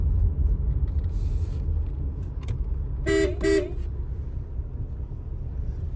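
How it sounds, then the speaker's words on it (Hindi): Two short car horn honks in quick succession over a steady rumble of traffic and engine noise, with a faint vehicle hiss earlier. "नट्स की दुकान पे भी मैं हॉर्न बजा रही हूँ।"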